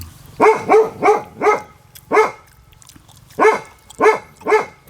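A dog barks at an outdoor rural Thai cooking gathering: about eight sharp barks, loud and close, in two quick runs with a short pause between them.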